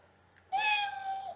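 A single drawn-out cat meow rings out clearly and close, lasting about a second against a quiet background.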